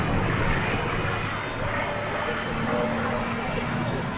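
A P-51D Mustang with a Rolls-Royce Merlin engine flying at an airshow, a loud steady propeller-engine roar with a constant droning tone, holding level throughout.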